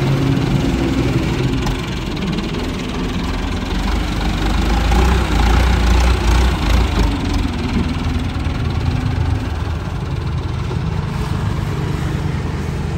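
Engine of a Massey Ferguson MF 290 tractor tilling a flooded paddy field, a steady close low rumble with knocking and vibration running unbroken throughout, no voices.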